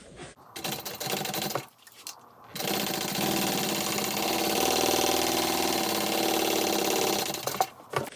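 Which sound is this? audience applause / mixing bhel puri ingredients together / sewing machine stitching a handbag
sewing machine stitching a handbag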